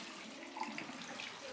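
Geothermally heated hot tap water runs from a household faucet in an Icelandic city, a steady soft hiss of flowing water with faint splashing, fairly quiet and alone.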